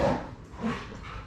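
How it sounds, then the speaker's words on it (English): Dogs growling and yipping close by in rough, scuffling play, short snarls and whines in quick succession. "my dogs are play fighting right now."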